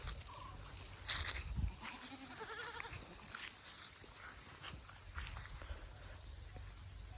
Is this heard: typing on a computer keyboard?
no